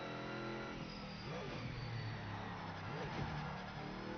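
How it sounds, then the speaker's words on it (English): A race car engine drones steadily while the car slides in the Project Motor Racing video game, a continuous loud mechanical roar with tire noise and no talking. "Car started sliding, but that's okay."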